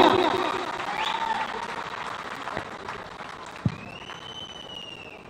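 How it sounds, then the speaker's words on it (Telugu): Crowd applause at a KTR political meeting in Nalgonda for the graduate MLC election, a dense, moderately loud clapping wash that slowly fades, with a sharp pop and a rising whistle-like tone near the end. "గట్టిగా విజయం కోసం చప్పట్లు కొట్టాలి గట్టిగా"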